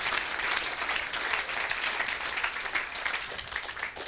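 Sustained, loud applause from a church congregation fills a Sunday worship service, steady, dense clapping throughout with no pause.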